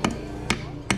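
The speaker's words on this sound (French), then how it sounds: "Il met quand même des vrais coups de marteau." Three sharp hammer blows land about half a second apart on a worksite in Bali. They are close and crisp, over a low background hum.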